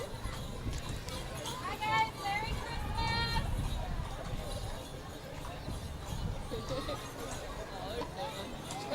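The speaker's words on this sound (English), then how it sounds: "Tons of horses here." Horses walking in a Christmas parade in Festus, Missouri, their hoof clip-clops mixed into a steady crowd babble and nearby chatter.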